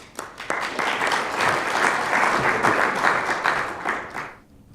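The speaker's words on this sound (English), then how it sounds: "give him a round of applause" An audience at a startup pitching session bursts into loud, close applause, a thick, steady clatter of many hands that builds quickly and fades out near the end.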